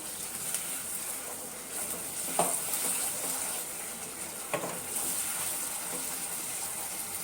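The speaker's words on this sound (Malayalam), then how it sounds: "ഞാൻ ഒരിത്തിരി വെള്ളം ഒഴിച്ച് ലൂസാക്കിയിട്ട് ഒന്നും കൂടി തിളപ്പിച്ചെടുക്കുന്നുണ്ട്" Gobi manchurian gravy bubbling and boiling in a pan after water is added, a soft continuous sizzle with a few louder pops and splashes, close and steady with no talk.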